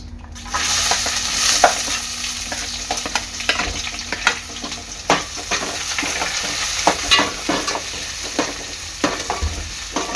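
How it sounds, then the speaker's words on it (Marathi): Onion and bay leaf frying in hot oil in a pan, a steady close sizzle with frequent stirring scrapes and clicks, no talking. "तेल चांगलं गरम झालेलं आहे त्यामध्ये टाकणार मी तेजपत्ता कांदा"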